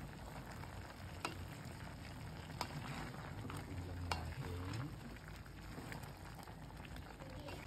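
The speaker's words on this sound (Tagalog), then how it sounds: "ilagay na rin natin ang ating kadyos beans. So, start na natin haluin." Kamansi and pork ribs with kadyos beans are stirred in a pot, giving soft scraping strokes over a low, steady simmering sizzle. The sound is fairly faint and close, with occasional light clicks and no talking.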